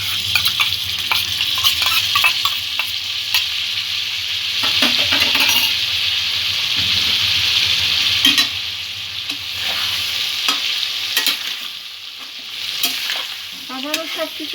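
Ginger-garlic paste and spinach sizzling in a frying pan, with loud steady frying hiss and repeated scraping and clinking stirs of a spoon against the pan, close and without talk.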